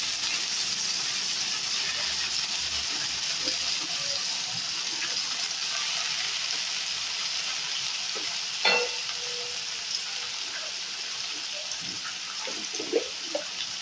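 New potatoes fry in hot oil with a little turmeric, giving a steady, hissing sizzle throughout with a few soft clicks and one brief scrape of stirring.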